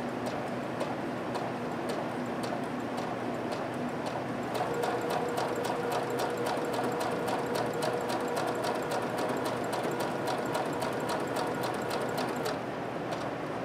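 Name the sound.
sewing machine stitching, controlled by foot pedal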